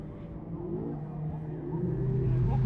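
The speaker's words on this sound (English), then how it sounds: "Getting very sideways with the power of the Escort in 6th place with Bruce Graham and Pete McCallum." A Ford Escort rally car's engine drones and builds in revs as it slides sideways at Knockhill, a steady, loud engine note rising toward the end.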